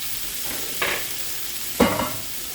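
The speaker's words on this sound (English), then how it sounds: "gonna take my vegetables, saute them up, so that way they pick up all the extra flavor from the meat." Vegetables sautéing in a pot roast pan give a steady sizzle close by, with two brief scraping stir strokes rising above it.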